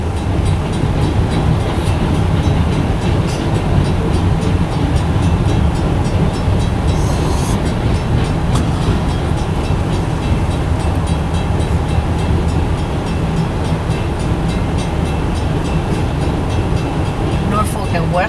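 A long Norfolk and Western freight train hauling salt leaves Mount Morris, rumbling and rattling steadily past at close range as its cars roll by without a break, while people talk over it.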